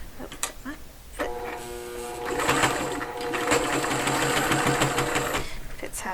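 A sewing machine stitches fabric, starting with a few short bursts and then settling into a sustained, steady mechanical whir with rapid rhythmic ticking, loud and close, while someone talks over it.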